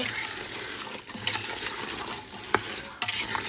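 Cranberry sauce with cranberries, sugar, juice and cinnamon stirred in an Instant Pot, heard as a close, continuous wet stirring and scraping with a few sharp clinks of the spoon against the pot.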